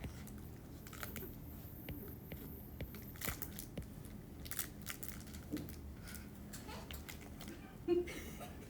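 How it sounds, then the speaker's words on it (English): Faint crinkling of a food wrapper mixes with soft crunching and chewing as someone eats in a quiet room, with scattered brittle crackles and quiet voices in the background. "That way we don't have to like listen to the crackling every 5 seconds."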